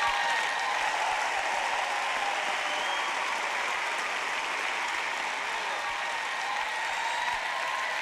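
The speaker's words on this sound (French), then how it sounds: "Allez, acclamez notre Dieu Saint ce soir." A church congregation applauds during a service, steady dense clapping that fills the whole stretch at an even, fairly loud level with a faint crowd murmur beneath.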